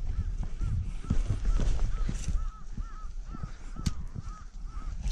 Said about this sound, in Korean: 까마귀가 오네요.